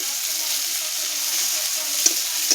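Onion and masala frying together in a pan for a mushroom curry, a steady close sizzle with a couple of soft stirring knocks near the end.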